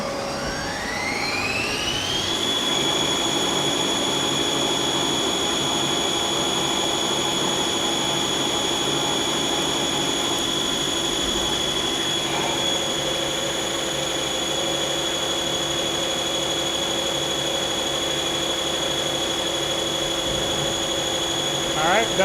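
Mazak CNC lathe spindle ramping up then a boring bar roughing a part, a sustained rising-then-steady tonal whine with grinding cutting noise, a change in pitch partway through, loud and continuous.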